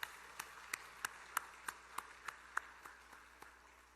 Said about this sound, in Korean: 다시 한번 뜨겁게 박수해 주시기